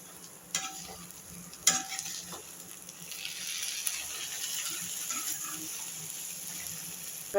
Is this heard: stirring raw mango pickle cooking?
yes